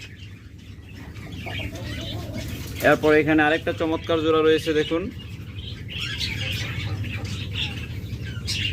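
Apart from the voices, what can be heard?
pair of lovebirds calling, green opaline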